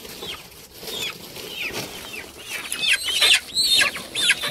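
Farm chickens cluck and squawk repeatedly near a poultry weighing spot at a market, with wing flapping and restless calls building louder toward the end.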